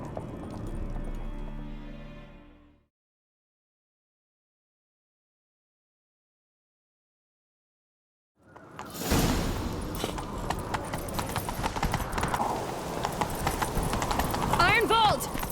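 Hooves of a horse in The Witcher 3: Wild Hunt clop rapidly and continuously in a galloping rhythm, loud and close, layered with rushing movement noise after a stretch of silence.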